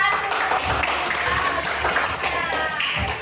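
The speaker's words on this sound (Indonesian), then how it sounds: "tepuk tangan untuk kelompok 1" Students in a university mathematics teaching-practice class clap for a presenting group, a steady patter of hand claps filling the room over low background noise and murmuring voices.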